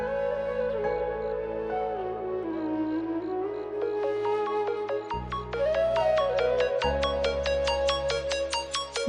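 A mobile phone ringtone for an incoming call plays a loud, continuous melodic tune over a sustained backing, close and uninterrupted by voices.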